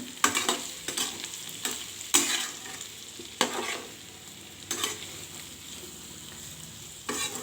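Potatoes frying in oil for a hotel-style aloo fry, a constant sizzle overlaid by repeated loud, close spatula scrapes and knocks against the pan at an irregular stirring pace, without any voices.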